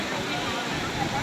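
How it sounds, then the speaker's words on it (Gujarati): Jatashankar waterfall, swollen with fresh water after rain, roars as a steady broadband rush close by, filling the whole short moment without pause. "આ હે જોતાશંકરનો ધોધ"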